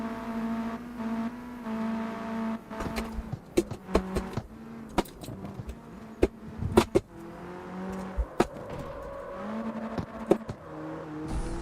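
In a racing video game, a car engine drones and repeatedly slams into its rev limiter, with stuttering cut-outs, pitch shifts and sharp clicks of gear changes, loud and close.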